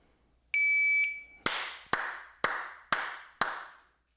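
Hands clap near a CED 7000 timer sensor to trigger it. A steady electronic beep sounds first, then five sharp, evenly spaced claps ring out close and loud, each with a short decaying tail.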